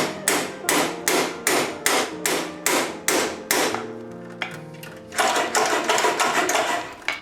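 Hammer striking a stuck heat exchanger rod on a pellet stove, a run of loud, evenly spaced metallic blows about twice a second, then a rapid burst of faster repeated strikes after a short pause.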